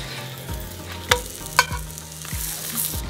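Scallion pancakes frying in a hot pan give a steady close sizzle, with a few sharp clinks of utensil against the pan over the continuous crackle.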